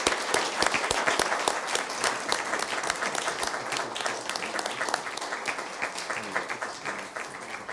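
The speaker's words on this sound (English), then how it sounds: "So to finish, a round of applause, please, for Michel DOBRY and for our four panelists" An audience at a debate on Russian empires gives a sustained round of applause for the panelists, dense steady clapping that slowly fades near the end.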